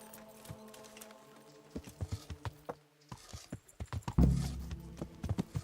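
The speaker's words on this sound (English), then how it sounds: "The magic horse is back." Horse hooves clip-clopping in the video game Kingdom Come: Deliverance, a quick irregular run of close hoof clops over a faint hum, growing louder and denser near the end.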